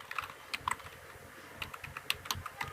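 Keys clack on a computer keyboard while C code is typed, sparse irregular keystrokes in short bursts, close and fairly quiet, with no voice over them.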